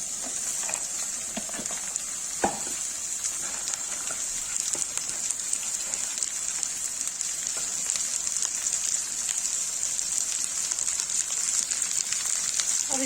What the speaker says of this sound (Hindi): गाइस देखिए प्याज हो गया, अब इसे भिंडी डाल देंगे।